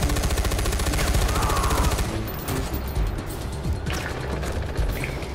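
Rapid automatic gunfire from the first-person shooter Far Cry, a dense continuous burst for the first two seconds followed by scattered single shots and quieter battle noise, loud and close throughout.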